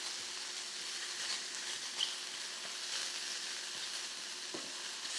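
Mushrooms brown in a hot pan with a steady, even sizzle of frying, close and unbroken, with a few faint clicks and no voices.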